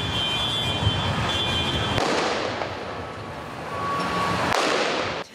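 Gunfire during an Israeli military operation in the West Bank's Jenin area, heard as two sharp cracks a few seconds apart over a steady wash of outdoor noise, with no talking.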